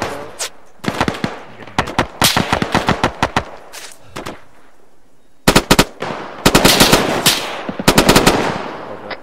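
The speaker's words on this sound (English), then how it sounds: "Taking fire from the south." Bursts of automatic rifle fire rattle out in rapid volleys during a military training exercise, loud and close, with short pauses between strings and a few single shots.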